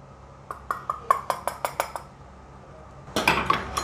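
Metal utensils clink and scrape against a pot while milk palkova is transferred into another vessel, a rapid series of about nine sharp, close taps followed by a louder, busier clatter of metal at the end, with no speech.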